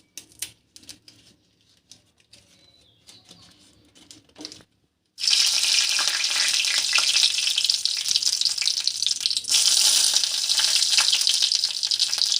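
Dried chillies and a bay leaf hit hot oil in a wok, bursting into a loud, steady sizzle after a few seconds of quiet clinks and handling, the crackling frying holding strong to the end.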